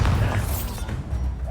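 Bombarda spell explosion in the video game Hogwarts Legacy, a single heavy booming blast with a rumbling low tail lasting under two seconds.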